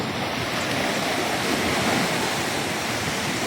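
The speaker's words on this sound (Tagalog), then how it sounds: "grabe yung epekto ng bagyo. Malakas ang alon dito sa amin mga kadagat." Strong sea waves after a storm on a fishing coast, a loud, continuous roar of surf with wind noise on the microphone and no talking.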